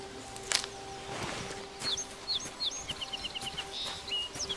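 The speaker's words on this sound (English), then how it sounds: "I love the sound of birdsong" Birdsong in the forest game Among Trees: several short chirps and a rapid run of repeated tweets over a quiet ambient background, soft and moderately distant.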